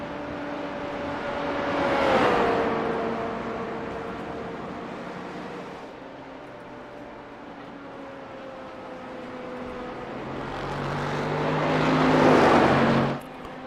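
A race car in a racing video game at Watkins Glen, its engine note rising and falling through gear changes, swelling loud near the start and again toward the end before cutting off abruptly.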